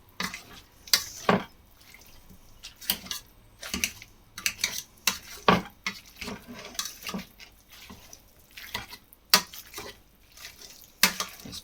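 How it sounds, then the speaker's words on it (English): Smoked haddock being mashed with cutlery in a dish ahead of adding egg, giving irregular close clinks and scrapes of metal against the bowl, scattered across the whole stretch with no talk. "Give it a slight mash before I add the egg."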